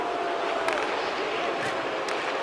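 Home crowd in an NHL 25 hockey video game, a dense, steady arena roar of voices and jeers held at a constant level throughout, with no distinct cheers standing out.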